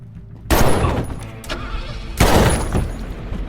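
Loud bursts of gunfire crack out in two heavy volleys, with rattling debris and a dense, booming action-scene roar between them.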